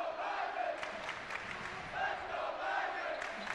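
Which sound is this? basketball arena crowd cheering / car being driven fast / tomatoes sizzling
basketball arena crowd cheering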